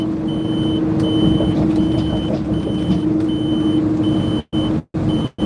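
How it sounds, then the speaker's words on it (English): A truck's warning beeper sounds in a steady series of evenly spaced electronic beeps over a loud, constant engine drone, close and continuous, with a few abrupt dropouts near the end. "That beeping just tells me that I'm good and green to go."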